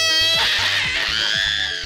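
A young child of about four screams loudly and sustained for nearly two seconds at a lively neighborhood street event in Morumbi, with rhythmic thumping music beneath.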